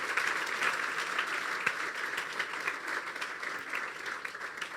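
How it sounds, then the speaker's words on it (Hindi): A church congregation applauds loudly for a child during a sermon, a dense wash of clapping with a few sharper individual claps, holding steady throughout with no voices. "जोरदार तालियां इस बच्चे के लिए।"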